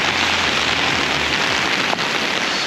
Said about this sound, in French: Bon, il pleut